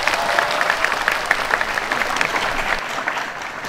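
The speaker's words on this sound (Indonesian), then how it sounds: "Tepuk tangan semuanya." An audience at a formal event welcoming the Indonesian communications minister in Tasik breaks into steady, dense applause that carries on without any talking.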